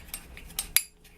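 A dessert spoon mixing a little milk into turmeric powder to make a paste: a few quick light clinks and scrapes against the container, the last one sharpest, close and brief.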